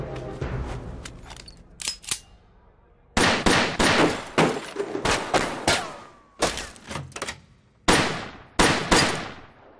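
Rapid gunfire from a shootout in The Grand Budapest Hotel: loud, close bursts and single shots crack out in an irregular rhythm after a quieter opening, with brief gaps between volleys and no speech.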